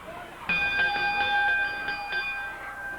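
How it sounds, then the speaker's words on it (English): Wrestling ring bell at a 1980 Memphis wrestling match, rung repeatedly in quick metallic clangs with a lingering ring, heard over crowd noise. "Referee says ring the bell"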